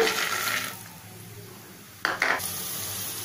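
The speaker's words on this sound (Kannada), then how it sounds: "ಈಗ ಎಣ್ಣೆ ಬಿಸಿಯಾಗಿದೆ ಕಡಲೆ ಬೀಜ ಹಾಕೊಳ್ಳೋಣ" Raw peanuts dropped into hot oil in a pan for puliyogare give a sudden sizzling burst that settles into a steady frying hiss, close and moderately loud, with no talking.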